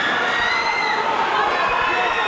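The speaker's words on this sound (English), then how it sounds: "the crowd comes alive here in round two" An arena crowd at an Almighty Fighting Championship women's MMA bout roars in a loud, continuous wash of cheering that fills the whole stretch.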